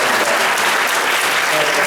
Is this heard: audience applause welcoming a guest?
yes